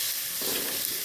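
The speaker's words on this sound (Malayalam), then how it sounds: "ഉള്ളി വാട്ടി കൊടുക്കട്ടോ" Onion sautés in hot oil in a pan with garlic and ginger, a dense continuous sizzle with a brief surge of stirring partway through, close and loud with no talk.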